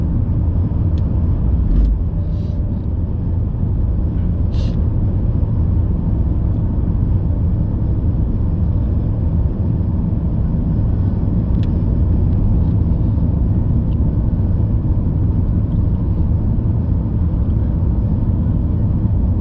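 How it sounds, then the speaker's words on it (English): A car engine runs with a steady low rumble, close by and unbroken for about twenty seconds, faintly uneven from a slight misfire caused by water on a spark plug lead. "I must have got a little bit of water on the spark plug lead or something, and caused it to miss a little bit"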